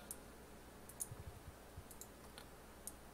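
Faint, sparse mouse clicks tap out in mapping software, a handful of short dry clicks spread unevenly over a quiet background.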